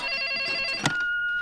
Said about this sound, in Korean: 케빈의 아빠에게 걸려온 전화를 듣곤